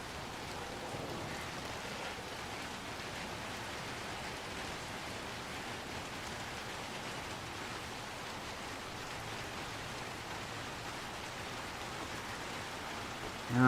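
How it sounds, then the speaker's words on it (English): Rain in Little Nightmares 2, a steady even hiss of rainfall filling the scene throughout, with no voices over it. "Oh, now it's raining."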